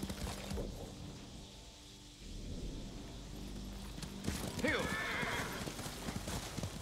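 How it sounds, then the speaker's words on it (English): Horse hooves clip-clopping along a road in the video game Ghost of Tsushima, a steady close trot punctuated by a whinny, with someone talking over it. "I travel on roads by horse."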